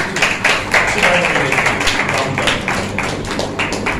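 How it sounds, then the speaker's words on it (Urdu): A congregation claps at a Sunday church service, with rhythmic, fairly close hand claps keeping a steady beat and a few thumps underneath. "زوردار تالیاں لگائیں۔"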